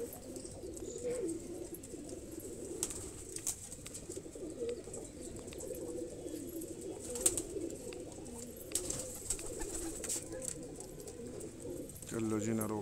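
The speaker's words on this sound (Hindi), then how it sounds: "ये ललचिरा कबूतर है" Low, soft cooing from a loft of Madrasi Kalseere pigeons, repeated calls overlapping in a steady murmur, with a few faint chirps and a voice talking near the end.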